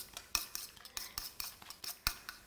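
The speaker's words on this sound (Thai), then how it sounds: "แล้วก็เอาไข่มาตีไข่อีก" Eggs beaten with a utensil in a bowl for a Thai omelette, quick rhythmic clinking and tapping strokes, close and fairly quiet, with no talking.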